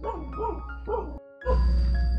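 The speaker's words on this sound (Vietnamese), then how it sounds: "Có chó các bác ạ, chó nó ở trong cái chỗ hầm lò sắn, mình không để ý" Dog barking from inside a cassava kiln pit at a rural work site: a quick run of three or four close, sharp barks, then a brief pause and a loud engine rumble taking over.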